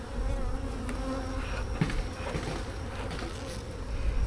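Honeybees buzzing at an open hive during an inspection, a dense, continuous drone close by with a steady, even loudness throughout.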